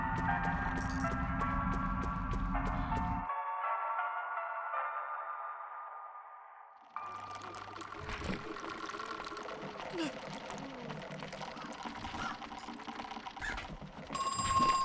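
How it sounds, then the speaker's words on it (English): Telephone ringing in the horror video game Crow Country, a sustained electronic tone that fades and gives way to busier game sounds, with a player talking faintly. "another phone's ringing?"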